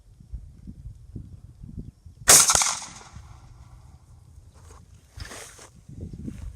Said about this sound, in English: All right, first shot right here.